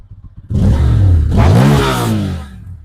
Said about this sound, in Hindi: ये अंडरवैली एग्जॉस्ट है भाई, साउंड बहुत प्यारा आता है इसका